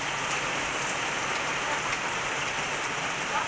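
Steady rain falling on a surface, a dense continuous hiss with soft patters, close and fairly loud, no voices, with chickens sheltering in a shed.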